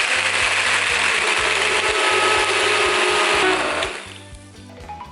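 A blender runs loudly with a steady mechanical whir while blending a chocolate drink, then winds down and fades near the end.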